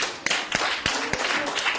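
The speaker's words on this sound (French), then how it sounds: "Donc on applaudit aussi pour ce groupe." Children at a theatre session for teacher training in Niger clap for a group, loose irregular handclaps with sharp individual strikes, close and fairly loud.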